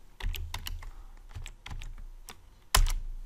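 Quick bursts of computer keyboard keystrokes, close and clear, as a value is typed in during work in Fusion 360, ending with a firmer key press.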